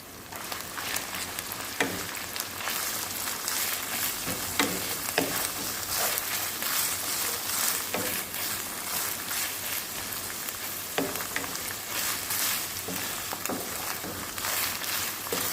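Ketchup and saltfish fry in hot oil for Jamaican ackee and saltfish, a steady crackling sizzle with scattered sharper pops and occasional stirring, close and continuous.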